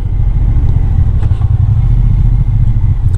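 A Triumph Bonneville T120 motorcycle engine drones steadily up close, a constant low rumble with no talking over it.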